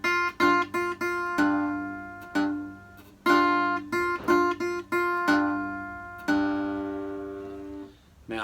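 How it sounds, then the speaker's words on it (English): Acoustic guitar in open G tuning plays a delta blues shuffle: clipped chord strums in a swinging eighth-and-triplet pattern, then two ringing bass notes, repeated twice, close and clear. "I'm going to play a shuffle 8th and a triplet, and then just 2 bass notes by themselves"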